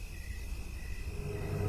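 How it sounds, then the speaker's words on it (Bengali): Crickets calling on a still, cloudy night before a storm, a continuous thin high trill over a low rumbling background, steady and moderately faint. "নিস্তব্ধ এই রাতের বেলায় ঝিঝি পোকাদের ডাক আর মাঝে মাঝে শিয়ালের হাঁক"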